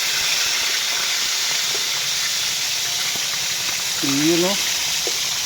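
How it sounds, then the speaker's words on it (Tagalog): Tambakol, a tuna, fries in a hot pan of oil. A loud, steady sizzle and hiss fills the whole stretch, and a voice speaks briefly over it. "prito na natin"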